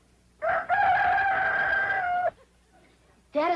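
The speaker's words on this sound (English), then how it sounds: "Rooster crows before he goes to bed." A rooster crows once in a long, loud, drawn-out call near the listener, followed by a short pause before a second crow begins.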